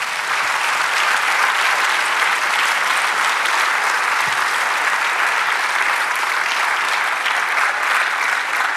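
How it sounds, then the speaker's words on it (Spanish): A church congregation breaks into steady, dense applause that holds evenly throughout, loud and close with no talking over it. "Denle un aplauso al Señor."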